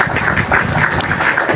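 A debate audience welcomes a speaker to the stage with a short, steady wash of applause, many hands clapping at once, loud and close.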